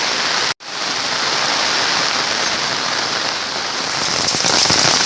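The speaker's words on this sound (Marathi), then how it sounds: "2 दिवस कोकणामध्ये जोरदार पाऊस पडतो आहे" Heavy rain pours down in the Konkan near the flooded Muchkundi river, a loud, steady roar of downpour with one brief cut near the start, close and without voices.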